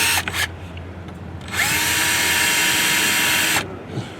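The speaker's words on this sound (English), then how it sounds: "we're going to take our 1/8 inch drill bit and put our pilot holes in" A power drill with a 1/8 inch bit whirs up to speed for about two seconds of steady drilling pilot holes, then winds down, with brief clicks before and after.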